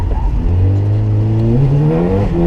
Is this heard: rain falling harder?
no